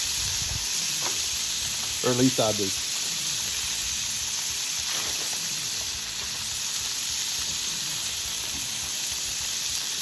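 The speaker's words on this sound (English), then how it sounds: "Drizzle just a little bit of olive oil in around the chicken. See it pick up and start frying a little better." Chicken fries in olive oil on a Blackstone griddle with a continuous, even sizzle and hiss. A short spoken remark briefly rises over it.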